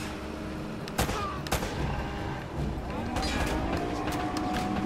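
Bursts of gunfire in the video game Uncharted: Drake's Fortune, a couple of sharp shots and a scattered fusillade under steady game background noise, with a voice talking over it.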